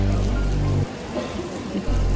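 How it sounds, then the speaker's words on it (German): Heavy rain pours steadily at a football stadium, a dense, loud, continuous hiss of drops striking surfaces close by, with a low rumble dropping out briefly midway. "Aber es ist komplett am Regnen."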